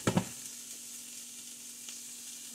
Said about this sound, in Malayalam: മീൻകറി തിളക്കുന്നുണ്ട്, തിളച്ച്